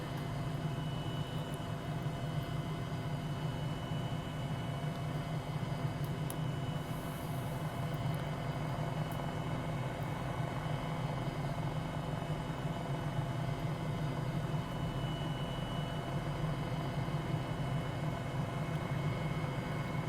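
Helicopter cruising over the Kaimanawa Ranges in New Zealand, a steady loud rotor and engine drone filling the cabin without pause, with a constant low hum and broadband rush and no voices.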